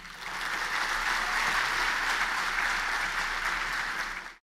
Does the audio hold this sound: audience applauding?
yes